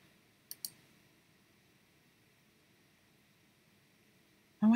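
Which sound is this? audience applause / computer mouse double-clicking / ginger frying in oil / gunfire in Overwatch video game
computer mouse double-clicking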